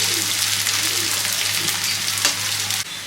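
Onions fry in a pan for Bengali-style chicken kassa, a steady dense sizzle running close and loud with a low hum beneath, a brief stir-clatter near the end before the sizzle drops off abruptly.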